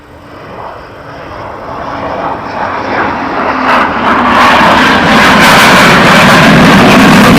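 A military jet on a low approach at RAF Lakenheath, its engine roar building steadily from distant to loud and close as it nears, ending in a broad, sustained rumble.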